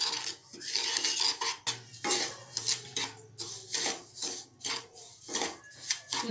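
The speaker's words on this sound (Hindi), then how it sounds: "जब तक ये ऑयल एब्जॉर्ब ना हो जाए तब तक आपको सूजी को भूनना है" A spoon stirs and scrapes semolina (suji) roasting in oil in a metal pan for upma, giving repeated rhythmic scraping and clinking strokes, close and fairly soft, with no voices.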